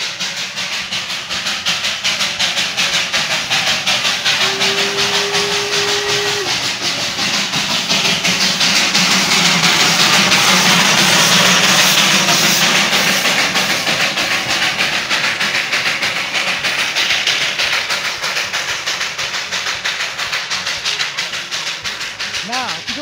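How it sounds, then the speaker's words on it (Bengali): A coal-fired steam engine of the Darjeeling toy train draws in steadily. A loud, continuous hiss and chuff swells toward the middle under a brief whistle-like tone, and rail clatter runs throughout. "এবার আসছে কয়লার ইঞ্জিন।"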